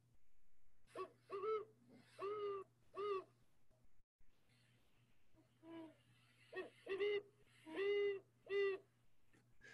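Recorded owl hoots play back in a quiet room, a series of soft, hollow calls in two clusters with a short gap between, over a steady low hum.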